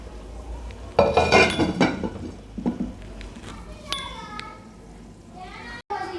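A lid goes onto a handi of chicken makhani with a loud metallic clatter of pot and lid, followed by softer clinks and scrapes, then a faint settling hiss and one final click near the end.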